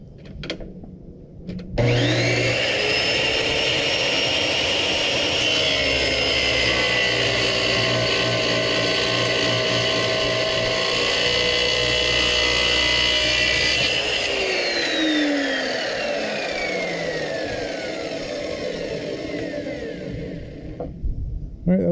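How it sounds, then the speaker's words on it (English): A power saw cuts through rebar clamped in a screw vise, starting with a sharp whine, holding a loud steady grinding tone for about twelve seconds, then winding down as the blade slows. "rebar into the saw using this screw vise here, and we'll try cutting it, see what happens"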